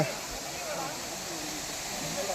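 Steady broadband rush of the Manganai stream flowing on Sathuragiri hill, a continuous close wash of water with no breaks throughout.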